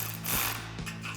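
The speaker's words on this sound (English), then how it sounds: "with a 4mm Allen headed socket, start tightening them up" An electric ratchet fitted with a 4mm Allen socket tightens roof rack bolts on a Jeep Wrangler JL, giving a steady close mechanical whir with faint rhythmic clicking throughout.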